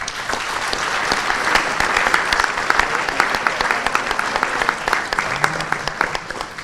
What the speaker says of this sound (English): one more round of applause for University of Hertfordshire